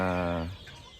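A close gamefowl chicken lets out a drawn, tonal cluck that fades into a quieter farmyard background.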